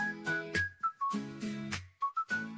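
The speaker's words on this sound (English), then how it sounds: "The most computer-sounding whistle I've ever heard" Synthetic-sounding whistled melody in an AI-generated girl group song, a series of clear sliding pitched notes in short phrases over a bouncy backing, bright and up front.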